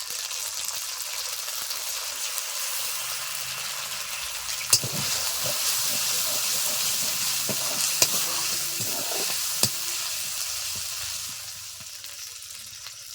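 Ground poppy seed and cashew paste fries in a pan, a steady bright sizzle with a few sharp scrapes and clinks of stirring before it eases off slightly at the end.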